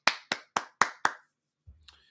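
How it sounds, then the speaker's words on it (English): Five sharp, evenly spaced hand claps ring out close and dry in quick succession, then stop, followed by a couple of faint soft knocks. "that's another round of applause"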